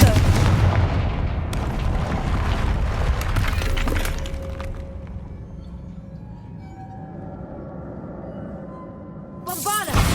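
Confringo fire-blast spell in Hogwarts Legacy, a loud crackling burst with sharp cracks and a booming impact that decays into a quieter rumble, followed by a brief bright sound at the end.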